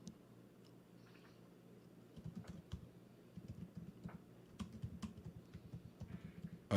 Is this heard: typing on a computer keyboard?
yes